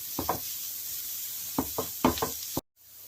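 Ginger frying on a medium-low flame for mutton keema, a soft steady sizzle beneath a series of hard knocks and taps of a spoon against the pan in small clusters, ending in a sudden brief silence.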